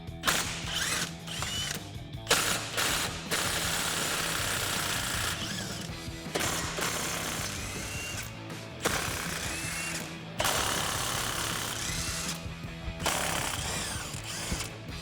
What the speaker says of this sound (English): So I've got a 15 millimeter swivel socket to remove all of these bolts.